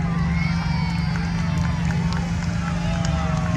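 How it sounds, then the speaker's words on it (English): Crowd cheers and shouts at an evening balloon festival in Lancaster, a close, continuous hubbub of voices over a steady low rumble from nearby balloon burners or fans. "people are cheering."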